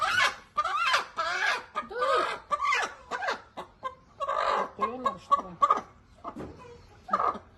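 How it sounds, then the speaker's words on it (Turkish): Hens that lay blue eggs cluck and squawk in bursts of rising, throaty calls, close and fairly loud, with short pauses between phrases, in a coop in Hatay. "En kümesin en gözde tavukları bunlar mı teyze?"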